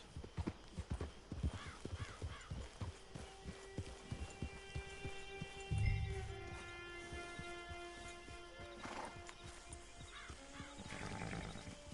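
Horse hooves clip-clop steadily in a video game as a rider approaches a camp, a regular rhythmic clatter with a brief low thump midway and faint musical tones in the background; no one speaks.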